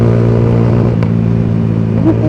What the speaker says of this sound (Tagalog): Pumuputok-putok ang tambutso ko.